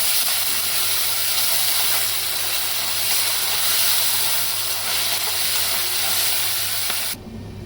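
Onions, tomatoes and chillies sauté in a hot pan with a steady, loud hissing sizzle that runs unbroken for about seven seconds, then cuts off abruptly near the end.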